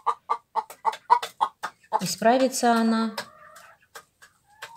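A hen clucks in a quick, even run of short notes, then lets out a louder drawn-out cackling call, close by, while someone speaks in Russian over and between the sounds.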